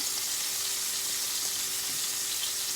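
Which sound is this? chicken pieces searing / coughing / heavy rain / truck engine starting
chicken pieces searing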